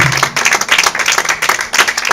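A church congregation claps together in dense, continuous applause at a worship service, loud and close, with some crowd murmur mixed in.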